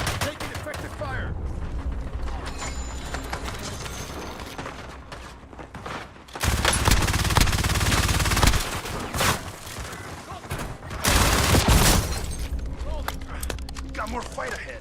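Bursts of gunfire in a zombie video game, with a dense loud fusillade from about six to nine seconds and another sharp burst near twelve seconds, set against mechanical clatter and game ambience.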